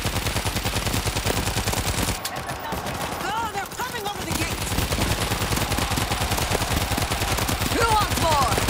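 Sustained rapid gunfire from the World War Z video game rattles continuously at close range, with a short lull midway, while voices talk over it.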